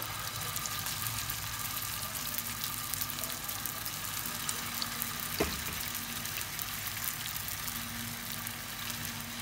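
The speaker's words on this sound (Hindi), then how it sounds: "पैन पे लिया हमने ऑयल, इनको हमने शैलो फ्राई करना है।" Beef keema kebabs shallow frying in oil in a pan over a medium flame, giving a soft, continuous sizzle that stays even and faint throughout, with one brief knock partway through.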